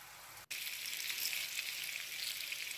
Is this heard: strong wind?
no